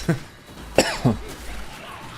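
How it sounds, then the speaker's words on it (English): A person coughs sharply three times in quick succession, close and loud, the second cough strongest, against a quiet background during a Nioh 2 gaming session. "I just pulled a freaking muscle on that cough."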